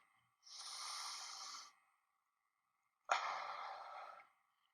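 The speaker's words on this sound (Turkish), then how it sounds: "5 saniye boyunca burnumuzdan nefes alıyoruz. Ve 2 saniyede içimizde tutup ondan sonra ağzımızdan yavaş bir şekilde veriyoruz." Slow, calm breathing for relaxation: a long airy inhale through the nose, a quiet pause, then a long, steady breathy exhale through the mouth, close to the microphone and with no talk.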